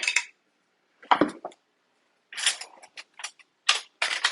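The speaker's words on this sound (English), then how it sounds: "Now we're going to open up some garlic." Garlic container being opened in a home kitchen while cooking chilaquiles: several separate bursts of clattering and clinking, close and fairly quiet, with brief silences between them and no talk.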